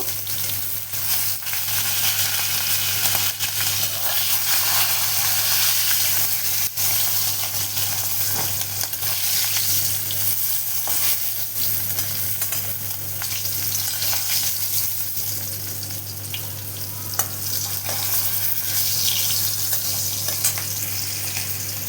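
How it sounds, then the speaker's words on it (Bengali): Hilsa fish frying in hot oil in a home kitchen, a loud, steady, continuous sizzle and crackle with a constant low hum underneath and no talking. "মাছটা আমি ভালো করে ভেজে নিয়েছি, এখন উঠিয়ে নিব।"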